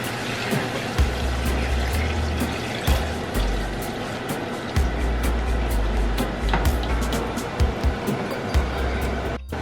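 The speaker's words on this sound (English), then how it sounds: "So I'm gonna add the water in." Water poured into a large pot of Caribbean oxtail soup with split peas, giving a steady, continuous splashing rush close by, with low rumbling bursts and faint kitchen clatter underneath.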